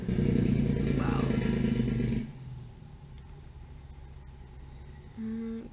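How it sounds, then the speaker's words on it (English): A car passes close by outdoors, a loud broadband roar for about two seconds that cuts off sharply, leaving quieter background ambience with a brief low hum near the end. "Just waiting for this car to go by."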